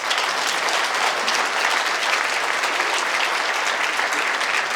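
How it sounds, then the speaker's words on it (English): Audience at a Chinese Canadian gala in Toronto applauds with sustained, dense clapping from a large crowd, steady and loud throughout. "Give them a big hand of applause."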